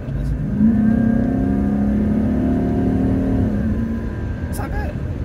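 A BMW E34 V8 with an aftermarket intake holds a steady, rising drone while accelerating, with a brief change in pitch as the automatic transmission shifts, close and fairly loud.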